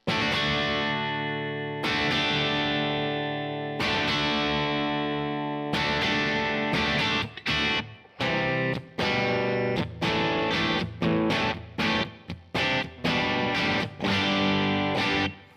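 Electric guitar played through Kemper reverb effects in an old-school rock style, ringing chords and strummed bursts with sustained reverb tails, loud and alone with no talk.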